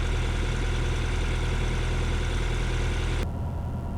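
A small airplane's engine idles steadily on the ground, a continuous loud drone with a low throbbing pulse that cuts sharply near the end to a quieter hum.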